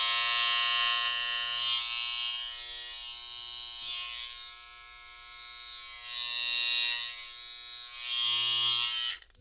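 A loud Kiepe Snoods hair clipper runs continuously, a close, steady high-pitched electric buzz with slight wavering in level throughout, no talk.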